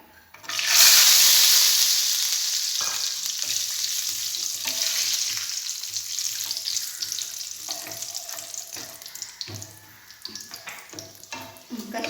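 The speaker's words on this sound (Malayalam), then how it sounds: "നമ്മുടെ നെയ്യ് ചൂടായിട്ടുണ്ട്. ഇതിലേക്ക് കശുവണ്ടി ചേർക്കാം." Cashews drop into hot ghee for a Kerala parippu payasam, setting off a sudden loud sizzle that settles into steady, crackling frying with occasional stirring clinks.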